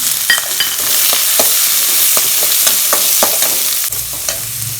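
Chopped shallots sizzle loudly in a hot pan for a Tamil moringa flower kootu, a dense steady frying hiss with scattered crackles and pops throughout.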